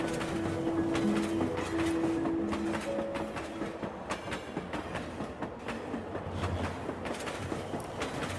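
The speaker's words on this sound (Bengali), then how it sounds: "নির্জনতার ভিতর দিয়ে ঊর্ধ্বশ্বাসে ছুটে চলেছে ট্রেন" A train speeding along its rails gives a steady rumble with rhythmic clickety-clack wheel beats and brief tonal squeals, continuous and fairly loud with no talking.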